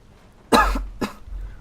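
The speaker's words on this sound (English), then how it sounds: "cough snuck up on me." A single close cough during a Skyrim playthrough, one sharp burst followed by a smaller second cough, loud against a quiet background.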